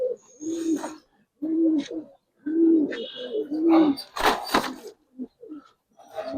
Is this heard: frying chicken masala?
no